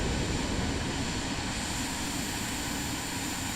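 Steady, loud engine roar of a Cirrus Vision Jet in Microsoft Flight Simulator 2024, a constant broadband drone with no talk.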